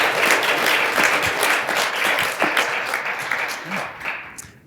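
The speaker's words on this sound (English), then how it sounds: "join me in giving our panelists a round of applause" An audience applauds panelists at the close of a marketing technology talk, a dense burst of clapping that gradually thins and fades over a few seconds.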